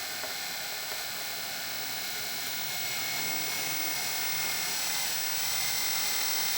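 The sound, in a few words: power drill drilling quarter-inch holes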